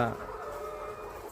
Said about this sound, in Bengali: আমাদের এখানে দুই হাজার মুরগির একটা ক্যাপাসিটি খাতা তৈরি করে দিছি